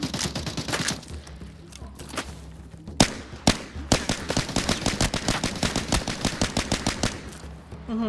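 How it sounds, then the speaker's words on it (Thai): Automatic gunfire from an AKM-style rifle in the shooter game Arena Breakout Infinite: a few scattered shots early on, then a loud, sustained run of rapid, evenly spaced bursts that lasts several seconds. "ปืนเหมือน AKM"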